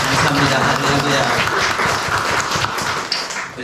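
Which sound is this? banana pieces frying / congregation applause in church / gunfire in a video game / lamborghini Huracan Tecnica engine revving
congregation applause in church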